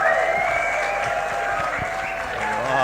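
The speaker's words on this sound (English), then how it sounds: "round of applause, put your hands together" Theatre audience applauding an entertainer's arrival at a Christmas show, steady mid-level clapping for about three seconds with faint crowd noise and a sustained musical tone underneath.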